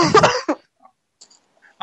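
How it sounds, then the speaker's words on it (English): During an online podcast call, one person gives a loud, rough cough of a few quick bursts, followed by near silence and faint small noises. "Who's coughing there?"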